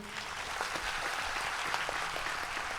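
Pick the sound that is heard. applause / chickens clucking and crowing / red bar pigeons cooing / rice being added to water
applause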